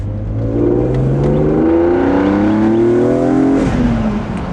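A rare BMW M car engine revving at half throttle on a drive, its note climbing loud and close in a smooth rising sweep before easing off near the end.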